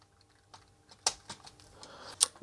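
A few separate, sharp clicks from keys pressed on a TI-99/4A home computer keyboard under repair, spaced irregularly and heard close up in a quiet room.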